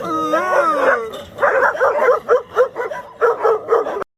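A rescue dog makes an excited run of yips, whimpery howls and short barks, close and fairly loud, in rapid uneven bursts with no talk.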